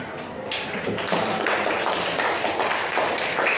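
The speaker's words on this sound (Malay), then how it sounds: "Tepuk tangan semua." A classroom of pupils clapping their hands together on a teacher's cue, a dense burst of quick overlapping claps starting after a brief pause and continuing steadily and fairly loud to the end.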